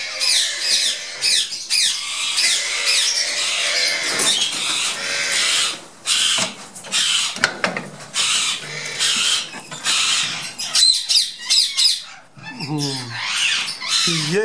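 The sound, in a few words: breeding pair of ringneck or grey parrots squawking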